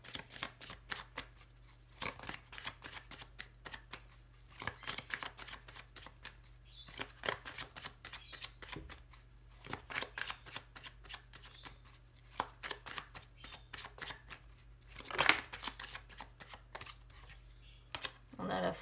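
A deck of tarot cards is shuffled and cut by hand, giving quiet, rapid clicking riffles and flutters in steady runs with a few sharper snaps, while a voice speaks softly over them.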